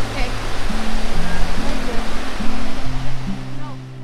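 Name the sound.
Yosemite Falls waterfall roaring on a windy day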